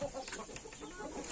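A rooster, a breeding bird with an injured wing, clucks softly at close range in short, low calls.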